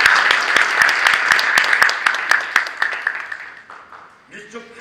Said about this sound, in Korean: 목사님, 다 박수로 다 축하드리겠습니다.